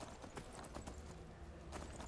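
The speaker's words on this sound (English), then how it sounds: "with a horse this time, so the horse can sprint without like running out of sort of stamina" Hooves clop in a quick, steady rhythm as a horse sprints in Skyrim. The impacts are faint and fairly close, repeating evenly throughout with no pause.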